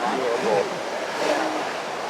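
Broad, steady rush of ocean surf at a skimboarding wedge, with voices talking over the roar of the waves throughout.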